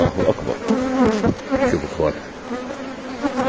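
Honeybees hum steadily around an iron, oval beehive as a heavy frame is lifted for inspection, a close, continuous buzz with a person's voice audible over it in places.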